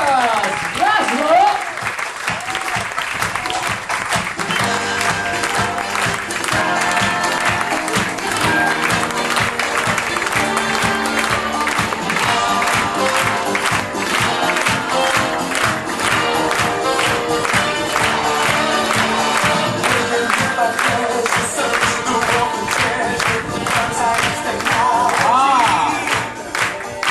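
A cruise-ship audience on the Star Flyer in Tahiti claps and cheers loudly and continuously, a dense wash of hands with voices and whoops mixed in and an announcer speaking over it.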